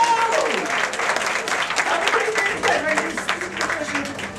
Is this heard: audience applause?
yes